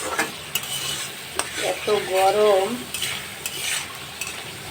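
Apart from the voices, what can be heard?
frying and stirring spice paste in a pan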